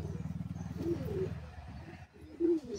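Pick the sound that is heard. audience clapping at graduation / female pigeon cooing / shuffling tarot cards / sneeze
female pigeon cooing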